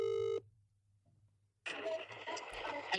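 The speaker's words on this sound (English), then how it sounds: "I'm ringing my boyfriend." A mobile phone dialing out gives a short, loud, steady tone at the start, then goes quiet before a burst of muffled background noise and movement follows.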